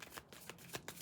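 Tarot or oracle cards being shuffled by hand, a quiet run of soft riffling slaps in an irregular rhythm, close and faint with no voice.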